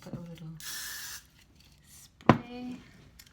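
A short burst of hairspray hisses onto rainbow-coloured mannequin hair tied in a ponytail. The spray lasts about half a second amid quiet handling noises, with a soft-spoken voice and a sharp tap near the end.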